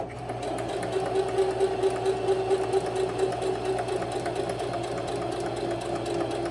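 A sewing machine stitches a fisheye dart in a steady, close mechanical hum with a fast, even pulsing of the needle running throughout.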